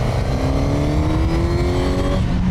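Suzuki GSX-S1000 naked motorcycle accelerating hard, its engine note rising steadily in pitch with a loud, continuous droning roar and wind noise from the rider's position.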